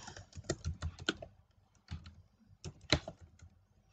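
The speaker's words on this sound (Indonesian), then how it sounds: "Maka di sini kita bisa ketikkan primary" Fingers tap out a word on a computer keyboard while working in Microsoft Access, producing close, crisp clicks in quick bursts separated by short pauses, with no one talking.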